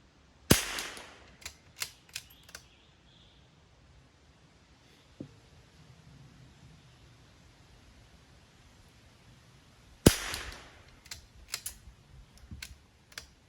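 Two sharp gunshots from target shooting at an outdoor range, several seconds apart, each followed by echoing cracks and clatter over quiet.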